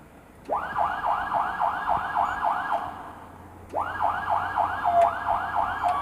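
Ambulance siren on a donated rural-hospital vehicle, a loud, close, rapid rising-falling yelp repeated in two bursts with a brief gap between them, alone without voices.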